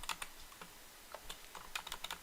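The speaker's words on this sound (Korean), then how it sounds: "이거를 제가 타이핑하는 거는 오탈자 날 수도 있잖아요" Quick keystrokes on a computer keyboard while coding in C#, irregular clusters of light clicks at close range, faint and alone with no voices.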